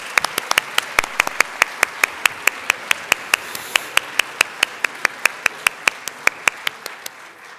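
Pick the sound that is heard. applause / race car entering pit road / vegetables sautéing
applause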